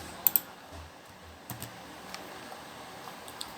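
Keys tap on a computer keyboard during a network switch lab: a quick pair of clicks, then sparse, quieter keystrokes spread over a few seconds in a quiet room.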